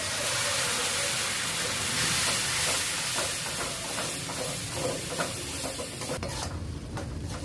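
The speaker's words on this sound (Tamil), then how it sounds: "இப்போ புளி தண்ணி வந்து ஒரு 3 டீஸ்பூன் அளவு ஊற்றிக்கலாங்க" Tamarind water hits hot oil with a loud, hissing sizzle that crackles on, then quiets sharply near the end.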